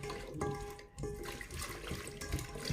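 Water is poured into a rice cooker pot while cooking a potato curry, a steady close splashing and running-water wash with a brief dip midway, no voices.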